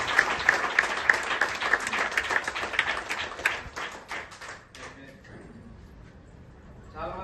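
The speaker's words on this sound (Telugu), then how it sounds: "ఒకసారి క్లాప్స్ ఇచ్చుకోండి" Audience at a Vestige business meeting gives a round of dense clapping for about four and a half seconds, then it fades into quieter room noise with a faint voice near the end.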